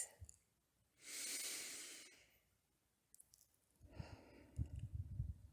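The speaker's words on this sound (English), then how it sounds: "Nice, long, deep breath. Breathing in." A slow, deep inhalation during a guided ASMR meditation, a soft close hiss of air lasting about a second, then quiet and a second rustling breath with light mouth sounds.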